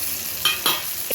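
Eggs and curry leaves hitting hot oil in a pan, with a brief bright sizzle and a couple of quick crackling bursts.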